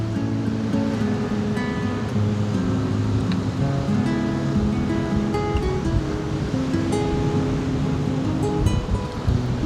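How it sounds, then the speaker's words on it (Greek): Wind and waves crashing on the shore at Afytos in Kassandra, Halkidiki, off season, a loud, continuous roar of surf and gusts with no voices. "μόνο ο ήχος του ανέμου και τα κύματα που έσκαγαν μακριά στην ακτή"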